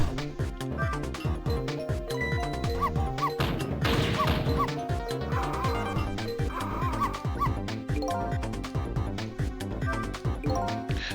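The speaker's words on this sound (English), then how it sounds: "What exactly are you barking about anyway?" Dog barking inside the video game Ghost Trick: Phantom Detective, repeated rhythmic yaps and woofs mixed into steady game music with a crash partway through, no talking over it.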